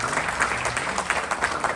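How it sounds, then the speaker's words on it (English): A religious gathering's audience claps in a steady, moderately loud stream of many hands, a brief round of applause with no speech over it. "Give him a big round of applause, please."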